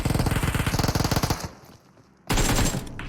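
Rapid automatic gunfire from the mobile battle-royale game PUBG Mobile, loud dense bursts for over a second, a brief lull, then another sustained burst close up, with no talk.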